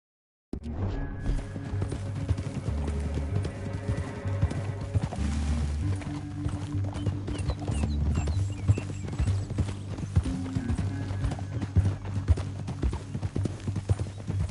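Horse hooves gallop at a steady rhythmic clip across the ground in Red Dead Redemption 2, starting abruptly after a moment of silence and continuing close and prominent over a low rumbling score.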